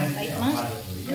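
Soup at a steady boil in a pot on a home stove, giving a close, continuous bubbling hiss with a voice faintly underneath through the whole short stretch.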